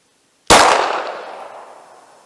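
A single sharp 9mm gunshot firing Winchester USA Ready flat nose 115 grain full metal jacket rounds, loud and close, cracks out of silence and leaves a long decaying echo.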